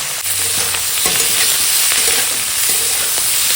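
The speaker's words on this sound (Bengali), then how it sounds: "সবজিটা অল্প সময় ভাজা হয়ে গেছে" Mixed vegetables with drumstick and spring onion sizzle steadily in a hot pan, with a few stirring scrapes over the constant frying hiss; close and fairly loud, no voices.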